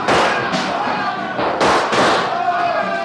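In a radio drama fight inside a smoke-filled house, sharp gunshot cracks ring out in a rapid, irregular volley of about five loud bursts over shouting and crowd commotion.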